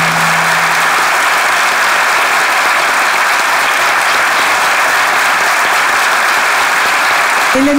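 A Turkish studio audience applauds after a comedy sketch on a sketch show, a loud, dense and steady wash of clapping that fills the whole stretch without letup.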